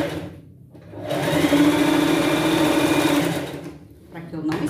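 Sewing machine stitching the side seam of a Cinderella-style pet costume dress, running in one steady, close, continuous whir for a few seconds between brief pauses, with a voice talking over parts of it.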